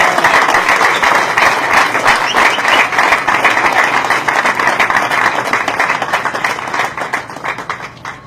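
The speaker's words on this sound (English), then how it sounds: "Let us single-handedly give her a wonderful applause" Large audience applauding at a graduation ceremony for over 700 graduates: sustained, dense clapping, loud and close, gradually thinning toward the end with no speech.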